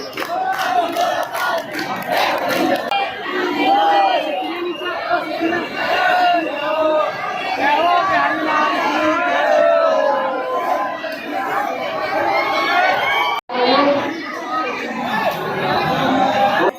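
A dense crowd of devotees packed into the narrow lanes of Vrindavan for the swing darshan festival, continuous loud chatter and excited shouting all around, with one brief sharp cutoff near the end.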